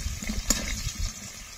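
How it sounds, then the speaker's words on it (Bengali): Potato pieces with salt and turmeric powder fry in a pan with a steady, close hiss and bubbling, one brief sharper crackle near the start, no voices. "এবার ভালো করে আলুটা ভেজে নেব।"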